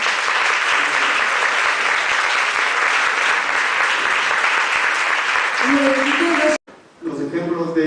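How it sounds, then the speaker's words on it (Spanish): An audience at a lecture on healthy eating claps steadily for several seconds, dense and even, fading as a voice begins speaking at the end. "Un aplauso para José."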